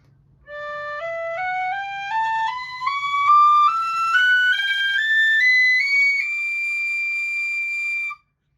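A Generation tin whistle with a black top plays a steady rising scale, clear, pure notes stepping up one after another without breaks, ending on a long held top note, solo and close.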